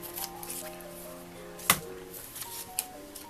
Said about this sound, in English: We cut our doily in half